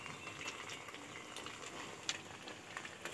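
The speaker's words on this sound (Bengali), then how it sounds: "দেখো এক পিঠ করে ভেজে নিলাম।" Soft, continuous bubbling sizzle of chire pitha frying in a pan over low-medium heat, faint and close, with scattered small pops and no voices.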